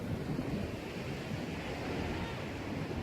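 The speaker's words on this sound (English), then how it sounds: "Look how choppy this water is." Choppy water below Marble Mountain in Vietnam gives a steady, dense wash of surf and wind noise, a constant rumbling roar with no distinct breaks and no voices.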